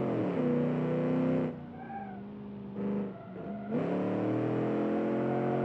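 An all-wheel drive SUV in a driving game revs hard and climbs through the gears, its engine droning loud and close, dropping briefly during a shift before surging back up.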